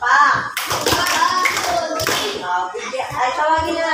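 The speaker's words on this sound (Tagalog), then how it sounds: "Bigyan natin sila ng tatlong palakpak." A class of students in an Araling Panlipunan lesson claps together in a short patterned round of claps, sharp and close, mixed with children's chatter.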